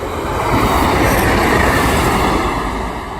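Class 150 diesel unit 150269 rumbles loudly past Stow Park level crossing, a steady broadband roar of engine and wheels that swells slightly mid-pass and eases toward the end, with no voices.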